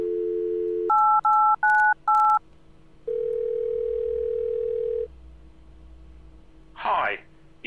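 Telephone keypad tones in the Thimbleweed Park video game dialing a number, with a steady dial tone, then four quick dial beeps and a long ring-back tone, followed by a short burst of a voice near the end.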